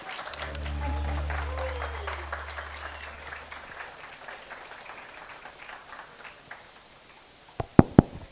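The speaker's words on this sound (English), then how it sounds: "One more round of applause" A crowd at a show launch event applauds young performers. The clapping is full at first, then thins and fades over a few seconds, and a few sharp knocks ring out near the end.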